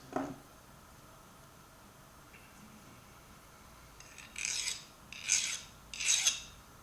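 A metal file rasps across a Craftsman or Pittsburgh Pro ratchet to test its hardness, three short scraping strokes near the end after a faint clink, close and fairly quiet with no talking.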